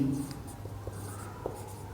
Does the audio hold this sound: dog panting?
no